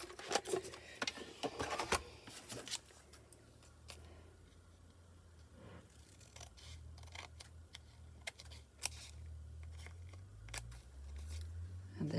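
Scissors snip through paper while embellishments are made for a junk journal, with bursts of quick sharp cuts at the start and scattered single snips later over a low background rumble, close and fairly quiet.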